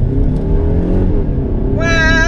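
A 2017 Mercedes C200 in Sport Plus mode accelerates hard, its engine roaring loud and close from inside the car, the pitch climbing, dipping at a gear change, then rising again sharply.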